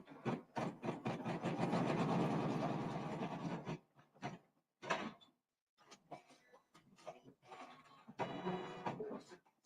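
An embroidery machine stitches a seam on a bunny quilt block, a dense rattling mechanical buzz running steadily for a few seconds, then stopping and restarting in shorter bursts with quiet gaps between.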